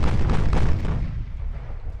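Warship guns firing on a light cruiser during a naval battle in the video game Ultimate Admiral: Dreadnoughts, heavy booming blasts that roll together and then fade into a dull, rumbling decay.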